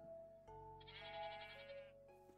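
Sheep bleating in Minecraft, a single wavering bleat in the middle between soft game tones, fairly faint, with no talk.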